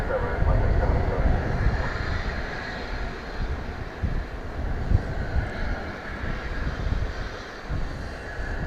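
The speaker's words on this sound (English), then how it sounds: "I'd say this is a Beechcraft." A Beechcraft propeller airplane drones at DFW airport, a steady, moderately distant engine rumble with a broad hiss, continuing throughout.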